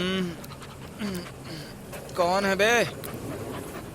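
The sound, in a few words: dog panting and licking a sleeping man's face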